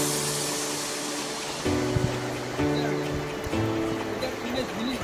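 Jayanti river water rushes in a strong current among hills in Buxa Tiger Reserve, Dooars, a constant broad roar close by, with voices faintly sounding over it.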